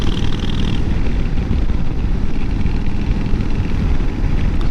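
A motorcycle, a chopper-style build, rides over gravel with a steady, loud engine rumble and a constant rough wash of crunching road noise, with no talking.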